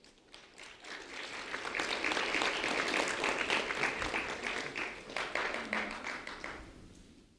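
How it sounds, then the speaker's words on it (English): Audience applause at an afternoon school recognition event for a fifth grade student, a sustained round of clapping that swells and then slowly tapers over about seven seconds, moderately distant with no talk. "A round of applause for Ariana"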